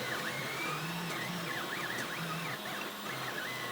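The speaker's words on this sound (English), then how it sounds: "my printer isn't even sitting flat right now. It's on an angle, but it's printing just fine." A 101hero 3D printer runs while tilted at an angle on a screw, its stepper motors giving a steady whirring hum with rising and falling whines from the moving axes, continuous and close.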